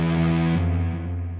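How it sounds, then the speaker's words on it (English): Electric guitar through a Hero Lead channel with nasty, heavy distortion: a single thick, buzzy note or chord rings out loudly, then fades and thins over a second and a half. "Pretty nasty distortion."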